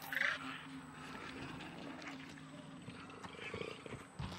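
Laika, a T-rex companion in the video game Robinson: The Journey, lets out a rumbling roar that carries on for several seconds at moderate volume, with a sharper burst at the start.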